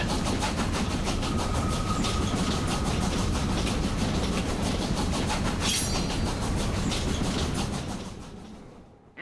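A moving train rumbles loudly in the video game Killer is Dead, a continuous heavy clatter of wheels and carriages with a steady rhythmic click, fading out at the end.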